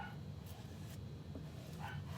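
A dog barking somewhere off to the side while porch decor is being made, two or three faint, short barks over a steady low background hum, distant and muffled.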